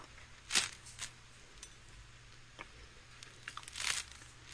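Crispy air-fryer bread rolls are crunched, giving a few sharp, dry crackles and crinkles spaced through a quiet stretch, close and fairly soft.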